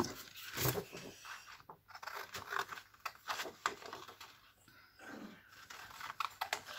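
Paper is roughly cut into pieces for a Christmas-themed pouch made from a template, giving close, quiet snips and crisp crunches in an irregular run with no talking.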